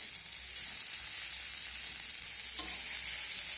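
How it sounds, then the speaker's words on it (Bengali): Chopped onion sizzles and fries in a pan for a cabbage dish, with a steady hiss and occasional soft scrapes of stirring, close and unbroken. "পেঁয়াজটা দিয়ে আমি আবারও নাড়াচাড়া করে পেঁয়াজটাকে ভেজে নেব।"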